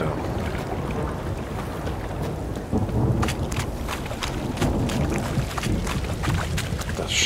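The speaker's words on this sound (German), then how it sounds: "Schon wieder Gewitter." Thunderstorm with heavy rain in the video game The Witcher 3, a constant downpour hiss with low rolling thunder and scattered sharp drops, fairly loud and without talk.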